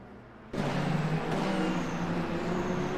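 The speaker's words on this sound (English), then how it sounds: "And the hypercars are officially rolling out onto circuit." Hypercars rolling out onto the Imola circuit in a racing video game, a loud engine roar cutting in sharply after half a second of quiet and holding as a dense, steady drone.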